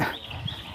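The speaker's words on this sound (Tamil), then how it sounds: "ஏய் நாய் வருது" A dog in a village gives a brief, close vocal sound lasting under a second over faint outdoor background, with no talking.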